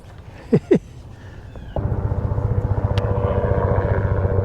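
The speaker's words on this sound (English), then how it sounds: "Helicopter." A steady low mechanical drone with rhythmic throbbing from a helicopter passing overhead at Lake Lanier, following two brief sharp sounds near the start.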